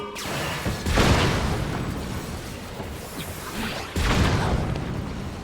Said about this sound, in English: This is a cannon.